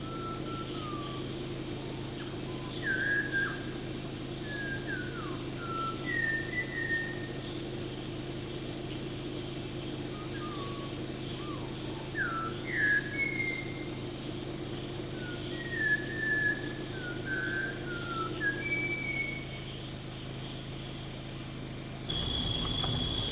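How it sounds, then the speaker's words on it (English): A Malabar whistling thrush sings clear, melodic whistled phrases that rise and fall again and again at middle distance in Parambikulam, India, over a steady low engine-like hum. "This Malabar whistling thrush was calling beautifully."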